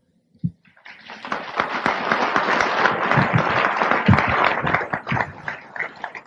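Audience applause breaks out after a short knock, a dense wash of clapping that holds steady and fairly loud for several seconds with no voices over it.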